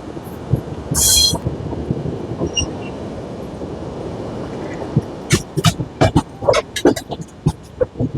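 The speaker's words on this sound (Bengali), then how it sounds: "ছেড়ে দিল আমাদের ট্রেন নৈহাটি স্টেশনের 2 নম্বর প্ল্যাটফর্ম থেকে" An express train pulls out of a station platform, its low rumble building steadily before a run of rhythmic clacks and clunks from the wheels and couplings, with a brief squeal early on.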